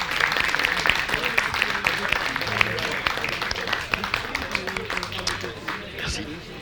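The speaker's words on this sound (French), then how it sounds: "faire quand même un tonnerre d'applaudissements pour l'équipe arrivée en 3ème position de ce tournoi Valorant" Audience applause for the third-place team at a Valorant tournament final, a dense, steady burst of many hands clapping that carries on for several seconds and thins slightly toward the end.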